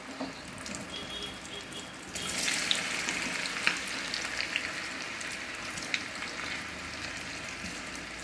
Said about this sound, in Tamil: இப்போ நம்ம இந்த சேனை வெட்டெல்லாம் நல்லா போட்டு நல்லா முறுமுறுக்க வரையில் வச்சு நல்லா வறுத்துக்கணும்.